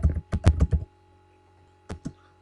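Keys on a computer keyboard are typed in a quick burst of about six clacks, then a pause and two more close taps, crisp and close-up with no talking.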